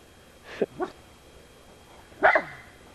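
A dog gives two short close barks early on, then a louder, longer bark or yelp after a pause, in a quiet home setting.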